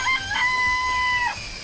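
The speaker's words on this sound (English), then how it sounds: "I remember there were some chickens in the coop." A chicken in a coop from the video game Danganronpa: Trigger Happy Havoc gives a single loud, close, drawn-out crowing call lasting about a second, with no talking.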